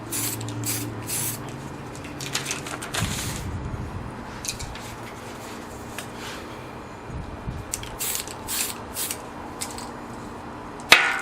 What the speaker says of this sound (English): So that's priming with Tamiya Surface Primer. Gray color, of course, right out of the can.